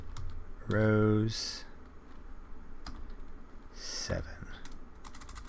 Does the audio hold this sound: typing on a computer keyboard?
yes